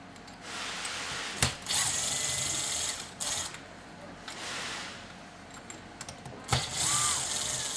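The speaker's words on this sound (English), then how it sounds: "we want to take all the screws out of the base" Bosch 1611/1615 router base having its screws removed with a power screwdriver or drill, short whirring bursts separated by clicks and handling knocks, close and moderately loud, with someone talking over parts.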